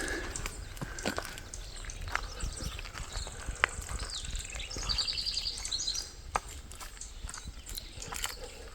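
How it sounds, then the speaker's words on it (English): A house wren sings in bursts of quick, bright chirps and trills from the trees along a hiking trail, with footsteps crunching close by underneath. "That singing bird is a house wren."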